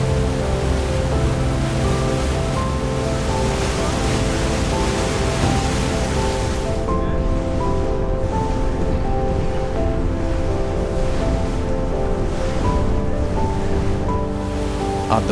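A cruise boat on the Douro River rushes along with a steady engine hum under a broad wash of water and wind noise, loud and unbroken, with no talking.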